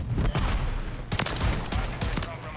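In MW3, a Reclaimer 18 shotgun loaded with incendiary shells fires a rapid burst of loud, booming blasts, dense and close, with a brief lull before the shots resume.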